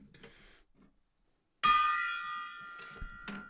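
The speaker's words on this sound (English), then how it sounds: "Gong it!" A bright metallic gong-like strike rings out suddenly and sustains with a shimmering decay, followed by a couple of short clanks.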